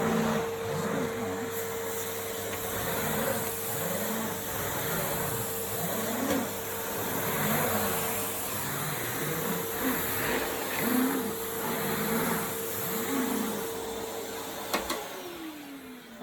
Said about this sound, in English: I just wanted to do a little bit of a big mess test there using the Hoover Eco G